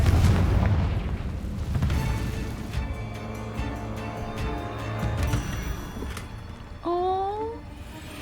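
A Confringo fire spell explodes in Hogwarts Legacy, a loud booming blast with a rumbling tail that fades, followed moments later by a quick high squeaky chirp from a small creature.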